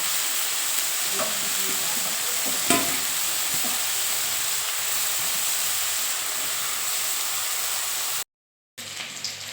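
Onion, nigella seeds and green chillies temper in hot oil with a steady, close sizzle and a few stirring clinks, then a brief cut to silence before the sizzle resumes.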